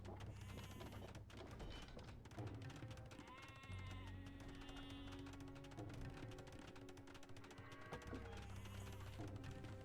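Sheep on a farm in a video game bleat repeatedly in overlapping, wavering calls over a constant low background hum, with some mechanical clicking mixed in.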